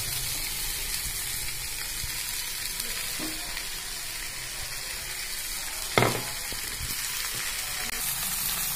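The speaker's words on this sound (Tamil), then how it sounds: "இப்போ இந்த அரைச்சதை இதில் கொட்டி கலரணும்" Ground spice mix stirred into a brinjal curry nearly cooked through in a pan, a dense continuous sizzle throughout with one clear spoon clink and a few scraping strokes, close and with no talking.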